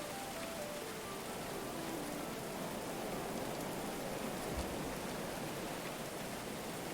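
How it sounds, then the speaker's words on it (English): Rain in the video game Going Medieval gives a quiet, steady hiss of falling rain, even and continuous throughout, with a faint descending tonal sweep near the start. "it's so rainy"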